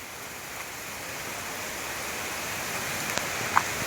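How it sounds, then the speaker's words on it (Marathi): Heavy rain falling during a trek to Bhimashankar, a steady, even hiss of downpour all around with a few faint clicks and knocks, no voices. "पाऊस आला जोरदार"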